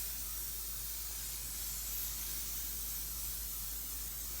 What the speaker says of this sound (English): so I'm using my silly spray to seal everything together.